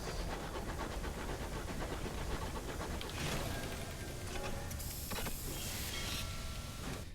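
A steam locomotive in the game Sunless Skies hisses and chugs in a fast, rhythmic pulse of puffs over a dense wash of steam, with a few brighter whistling bursts toward the end.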